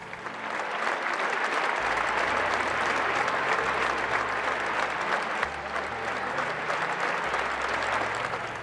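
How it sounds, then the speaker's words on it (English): Sustained applause fills the church as the congregation at a papal funeral keeps clapping, a thick continuous wash of many hands at even loudness from start to finish. "They continued to clap."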